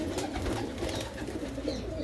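Fancy pigeons belonging to a village keeper coo in a low, continuous murmur, close and steady for the whole short stretch, without anyone talking.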